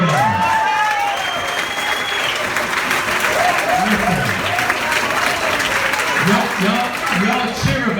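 A crowd at a Florida governor campaign rally in Cocoa Beach applauds and cheers loudly and continuously, with dense clapping throughout and voices rising over it.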